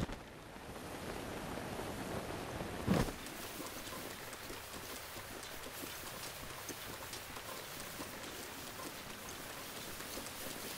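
Rainfall in The Legend of Zelda: Breath of the Wild, a soft continuous patter of game rain over the whole stretch with a single brief thump early on and no talking.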